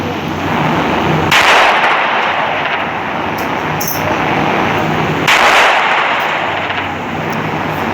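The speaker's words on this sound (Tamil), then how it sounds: "இப்போ ராக்கெட் லான்ச்சர் தாங்க." Rocket launcher fire in the Indian Bike 3D video game: two loud broadband blasts, each with a lingering noisy roar, over a constant game background.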